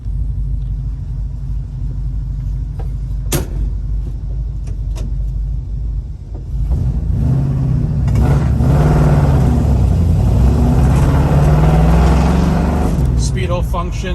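A 1967 Ford Mustang rumbles at idle, then pulls away and accelerates through the gears, its deep engine note rising and falling in the cabin.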